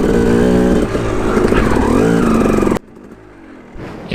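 KTM 250 dirt bike ridden on a wooded trail, its engine loud and close with rising and falling revs as the rider works the throttle, then cutting sharply to a quiet idle with faint rustling.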